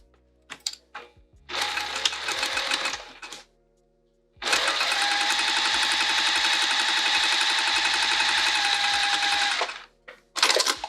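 A sewing machine stitches the seam of a sling bag, a short burst, a pause, then a long steady whirring run of about five seconds, loud and close, with a quick final burst and no talk.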